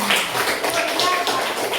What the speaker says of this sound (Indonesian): Oke, baik, semua tepuk tangan.